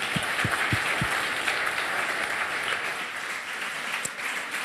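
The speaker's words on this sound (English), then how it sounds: "So if you'd like to give them a round of applause," Crowd applause fills a conference hall at a console hacking talk: a few distinct claps at first, then steady, dense clapping that carries on throughout at moderate volume.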